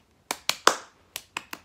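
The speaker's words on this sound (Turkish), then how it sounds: "Alkış" Six sharp, separate hand claps in two quick groups of three, close and dry, with short gaps between them and no voices.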